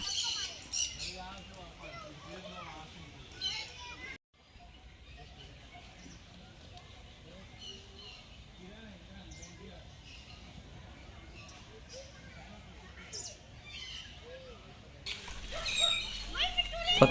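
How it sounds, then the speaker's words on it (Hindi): Birds squawk and chirp in a busy, overlapping chorus at Nandan Van Bird Sanctuary, Chhattisgarh, fairly soft and at a moderate distance, growing louder briefly at the start and end. "पक्षियों की कलकल करती हुई मधुर आवाज़ें मानो आपका स्वागत करती हैं।"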